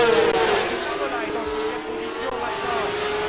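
500cc racing motorcycles accelerate at Paul Ricard during the 1988 French Grand Prix, their high engine whine climbing and holding steady, with a commentator talking over it.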